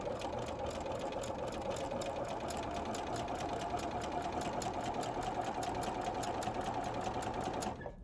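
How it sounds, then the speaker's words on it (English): A sewing machine stitches a quilt block seam just inside a marked line, a steady close whirring run that holds for about eight seconds and then cuts off at the end. "So if you can see how I'm sewing just to the inside of that line."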